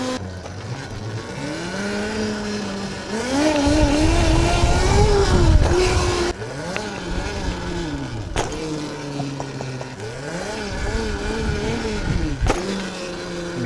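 An Electro ETM RTR electric dirt bike motor runs with a grindy, chuggy whine, rising and falling in pitch as the rider pulls wheelies, swelling louder mid-way, with a sharp tick or two along the way.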